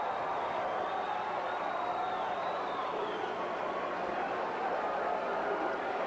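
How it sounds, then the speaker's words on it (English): Arena crowd at a 1985 Continental Wrestling match cheering loudly as Candi Devine enters the ring, a steady dense roar of many voices that holds without pause. "And the crowd goes wild."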